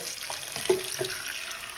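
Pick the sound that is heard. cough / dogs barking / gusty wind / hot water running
hot water running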